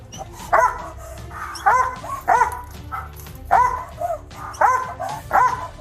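Police dog barking in bursts of deep, loud barks, roughly once a second with short yips between, close by and with no talk over it.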